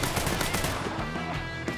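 A rifle fires in the Mafia III video game in a rapid, loud burst of close shots, heavy and continuous for most of the moment before easing off.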